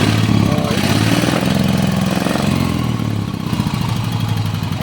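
A motorcycle engine with two carburetors, newly replaced o-rings and synchronized carbs runs loudly and close by, a steady rough mid-pitched idle that dips slightly in level near the end.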